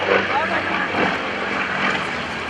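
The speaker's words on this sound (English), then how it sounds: "Plenty of power up there to that MT carbon fiber propeller." Aerobatic airplane with an MT carbon fiber propeller rolling at an airshow at Greenwood Lake, 2014; a loud, steady propeller-engine drone with a commentator speaking over it.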